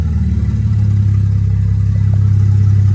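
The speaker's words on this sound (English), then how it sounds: "engine sounds all right" A forged BMW N54 engine with no exhaust fitted runs steadily close by, its loud, deep, even drone holding without pause for the full stretch, a slight rise in intensity toward the end.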